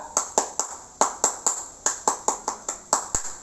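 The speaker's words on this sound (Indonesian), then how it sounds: "mari kita tepuk pramuka" A group performs the Indonesian scout clap, tepuk pramuka, at a school scout session, a sharp rhythmic pattern of about a dozen crisp, loud hand claps in short grouped bursts with no talking.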